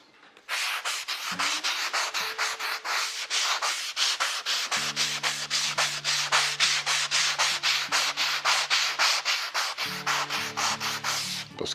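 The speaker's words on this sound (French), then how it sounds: "je vais juste faire un petit ponçage rapide au 120 à la main" Hand sanding the wooden back and top of a Pink Ivory guitar with 120 grit sandpaper, steady rapid back-and-forth rasping strokes close up, with faint low tones humming underneath for a stretch.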